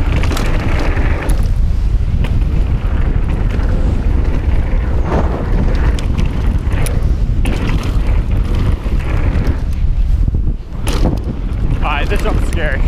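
Strong wind buffeting the microphone while riding a jump at a mountain bike park, a loud continuous roar with gusty surges and a brief dip near the end, with faint breathing or voice mixed in.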